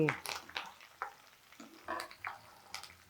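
Cumin, chana dal, dried red chillies and curry leaves sizzle softly in hot oil as a tempering for tomato pachadi, with intermittent stirring scrapes; the sound is quiet and close.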